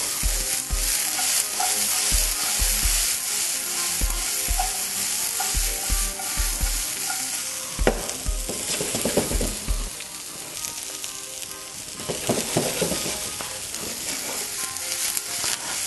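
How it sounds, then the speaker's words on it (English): Broccoli and portobello mushrooms sauté in a hot pan, a continuous loud sizzle with repeated stirring scrapes and knocks, the frying surging and settling as the pieces are tossed. "Saute them, deglaze them with the soy."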